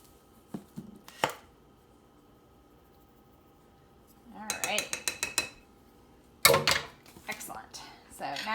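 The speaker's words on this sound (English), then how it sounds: "take our fork back again and get this nice and combined" A fork clatters against a bowl while mixing flour, baking soda and salt for s'mores bars, with scraping bursts separated by pauses.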